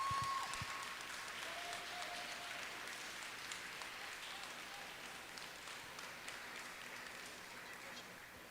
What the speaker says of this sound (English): I would like for everybody to give them a round of applause